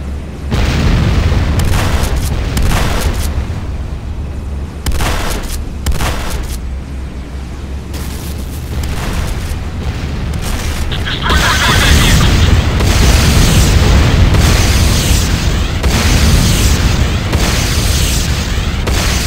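Repeated heavy booms and blasts as a structure comes under attack in the video game Renegade, dense and loud, layered with rumbling and a spoken game announcer voice.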